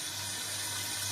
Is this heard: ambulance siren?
no